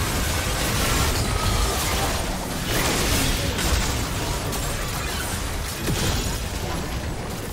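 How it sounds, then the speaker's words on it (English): A defensive turret in League of Legends being destroyed: dense, loud crashing and booming bursts with crackling debris, continuous over several seconds amid game effects. "Blue team's turret has been destroyed."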